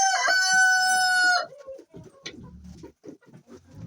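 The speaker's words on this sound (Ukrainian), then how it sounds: "Випустили курей та дали їм їсти." A rooster crows loudly up close, then hens just let out to feed cluck and murmur in short, busy bursts as the flock moves about.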